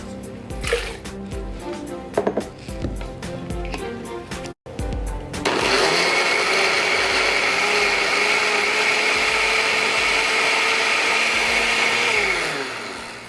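After a few clattering knocks, a blender roars to life and purees fermented ají amarillo chilies, its loud, steady whir holding for several seconds before winding down.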